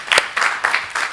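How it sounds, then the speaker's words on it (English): Audience applause after a presentation at an annual scientific meeting, four short bursts of clapping from a small group, fairly close and without talk. "je pense qu'on va applaudir Dr Valérie pour ce travail difficile."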